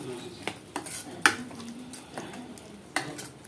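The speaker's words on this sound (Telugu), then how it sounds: "ఇప్పుడు ఇదైతే చక్కగా ఇట్లా కలిపేసేసుకుందాము" An onion and mango pickle mixture is stirred in a metal vessel, with a spoon knocking and scraping in several sharp clinks over a soft background, close by and without talk.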